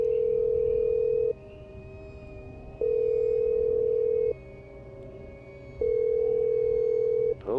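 A telephone line sounds after a call to the police number, giving a steady tone in long evenly spaced pulses with quiet gaps between them, clear and close with no talking over it.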